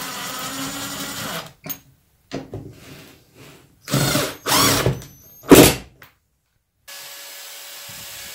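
A power drill drives screws into poor-quality wood on tiny house cabinets in several short whirring bursts of varying length separated by pauses, close and fairly loud, with a faint steady hum in the background.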